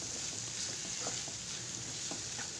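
Finely chopped onion hits hot oil in a pan while making prawn fry, giving a steady, soft sizzle and crackle with faint stirring scrapes throughout.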